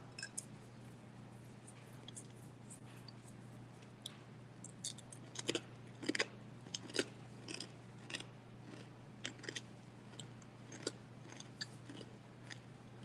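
Quiet, close chewing of a Carnivore Crisps snack: sporadic firm crunches and clicks over a steady low hum, with no talking.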